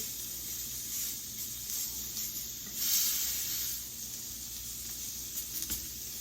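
Homemade sausage patties sizzle steadily in a frying pan, a close, continuous hiss with slight swells and a few small pops, and nobody speaks.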